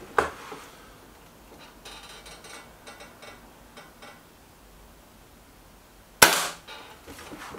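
Two sharp cracks from a Weihrauch HW110 air rifle, the second much louder and closer near the end, with faint metallic clinks between them and no talking.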